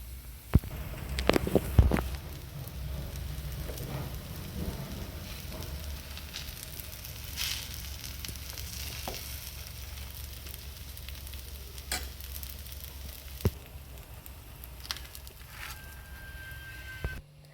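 Ghee sizzles under a dosa frying in a pan, a steady soft crackle with a few louder pops and scrapes near the start, then an even low hiss throughout.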